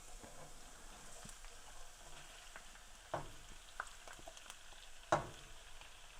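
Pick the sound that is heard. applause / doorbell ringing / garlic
garlic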